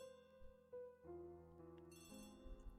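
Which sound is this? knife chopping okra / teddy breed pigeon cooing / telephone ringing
telephone ringing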